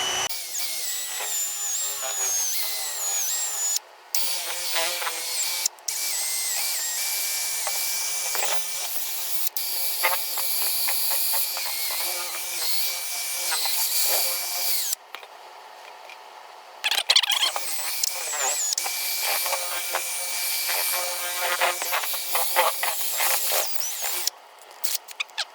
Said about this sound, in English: what I'm going to do is mix the sugar and the pollen together